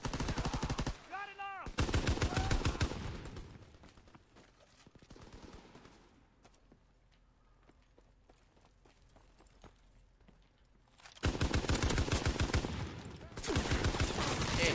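Loud bursts of ST-44 assault rifle fire in Call of Duty: WWII, rapid automatic volleys at the start and again near the end, with quieter footsteps and game ambience in between and a voice talking faintly.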